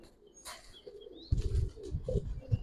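Giribaz pigeons of a Palla-line loft coo and flutter close by, with low throaty calls building in the second half and a few brief chirps and wing flaps over a quiet background.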